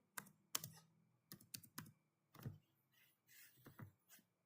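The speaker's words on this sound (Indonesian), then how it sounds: "Kemudian saya ketik git init." Command typed on a computer keyboard at a command prompt: a sparse, irregular run of crisp individual key clicks and a few softer taps, close and quiet, with no talk.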